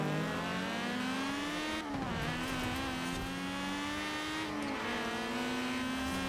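Drag racing car in a racing video game revving hard in a steady high-pitched engine drone, with two quick gear changes where the pitch dips and climbs again; continuous and close, no talk.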